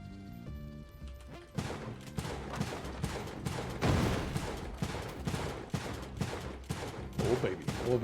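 Rapid bursts of gunfire in Spelunky 2, a string of sharp shots and crashes rolling along for several seconds at moderate loudness with no talk over them.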